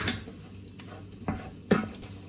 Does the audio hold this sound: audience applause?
no